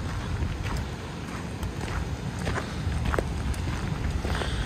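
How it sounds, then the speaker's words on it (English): Water pours over a dam, heard as a broad, continuous roaring rush from some distance, mixed with wind buffeting and footsteps, with no talking. "Y'all, you can like hear the dam falling"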